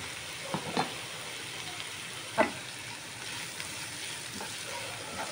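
Onions frying in a pan and browning to golden, with a steady low sizzle and a few louder scraping clicks as they are stirred, no talk over it.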